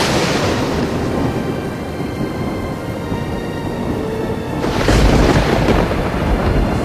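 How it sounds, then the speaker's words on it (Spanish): Thunder rumbling as a sound effect in a narrated Marvel Spider-Man comic, a loud, continuous low roar that swells toward the end, heard alone without talk. "Un trueno retumba en el cuerpo de Spider-Man."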